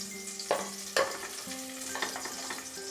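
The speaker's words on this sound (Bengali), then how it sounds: "1/2 কাপ পরিমাণ কিশমিশ আমি একদম ফ্লেমটাকে কমিয়ে নিয়ে ফ্রাই করে নেব।" Half a cup of raisins frying in a pan over a very low flame, giving a steady soft sizzle with a few louder scrapes and clinks as they are stirred, heard close with no talking.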